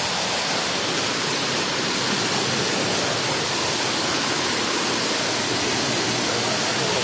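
Water rushes through a dam in a loud, continuous roar, a dense unbroken wash of churning flow that holds steady from start to finish with no voices over it.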